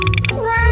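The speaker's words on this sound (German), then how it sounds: "Ich weiß, es ist eine Katze." A cat meows briefly and close by, a short sharp cry overlapping a voice, in a playful kitchen cooking-challenge setting.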